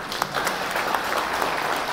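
Audience at a farmers' felicitation gathering applauds with steady, dense clapping from a large crowd, sustained at full volume throughout.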